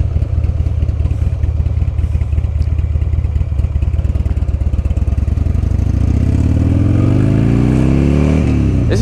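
Loud, close engine of a 2006 Buell XB12R sport bike on a test ride, a throbbing V-twin with heavy pulsing vibration and rising revs toward the end, with wind rush over it.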